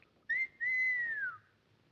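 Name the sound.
person whistling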